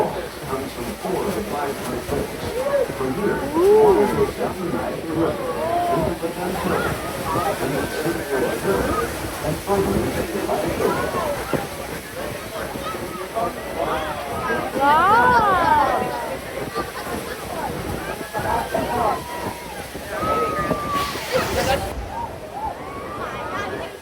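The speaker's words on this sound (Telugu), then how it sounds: "Ladies and gentlemen, this is Niagara Falls." Niagara Falls roars as a steady broadband wash heard from a boat, with crowd chatter and voices talking over it throughout.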